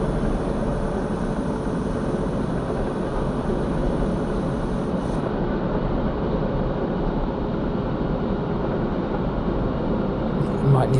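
A diesel railcar in Diesel Railcar Simulator slows under braking, giving a steady, loud low rumble of engine and rolling wheels that holds without a break throughout.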